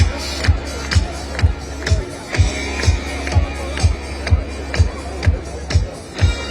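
A packed crowd dances at a Bronx street event, a steady thumping beat pulsing about twice a second over a dense bed of crowd noise and murmur.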